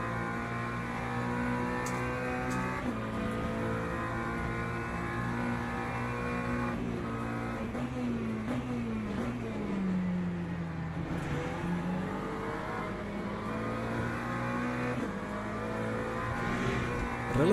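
Hypercar engines roaring together at a race start in the sim racing game Le Mans Ultimate, a continuous layered drone of several cars with rising and falling revs, sustained and moderately loud with no voices.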